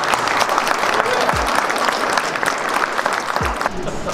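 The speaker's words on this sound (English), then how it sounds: "Let's clap up." A roomful of people claps at a Houston real estate wholesaling meeting, loud continuous applause holding steady throughout, near and energetic, with no talk over it.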